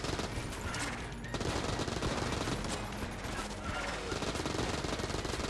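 An AK assault rifle fires in Enter the Gungeon, a loud, sustained rattle of rapid shots running almost unbroken, with a brief dip near the start.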